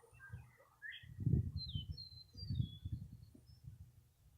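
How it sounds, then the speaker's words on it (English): Wild birds chirp and sing outdoors as a storm approaches, with high, brief tweets scattered across the moment over a low rumbling background and soft handling noise. "birds are happy. Hear them singing."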